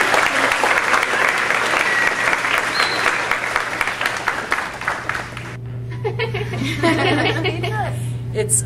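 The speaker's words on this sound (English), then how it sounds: "Let's give them a round of applause for helping us this week." An audience claps loudly and steadily for several seconds, with scattered chuckles mixed in, before the applause cuts off and a voice starts speaking.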